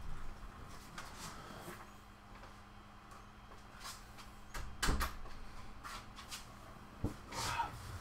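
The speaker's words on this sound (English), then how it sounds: "I'm going to shut that bloody door" An indoor door is swung shut with a dull thud partway through, followed by another knock and soft handling noises against a quiet room background.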